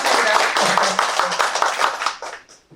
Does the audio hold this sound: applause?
yes